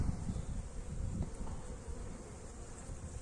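A dense, steady insect buzz fills the whole stretch, many honeybees humming together in a hive in January, close by with no voices.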